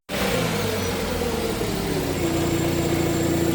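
A 2-litre petrol car engine from 2012, paired with an automatic transmission, idles with a steady, even hum close by, holding one smooth tone throughout without surges or other sounds.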